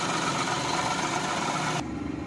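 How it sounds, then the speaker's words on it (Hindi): A Maruti Suzuki 800 car engine idles steadily at close range, a soft continuous hum that drops off sharply near the end, with no voices. "गाड़ी अभी आइडल पर भी ठीक है"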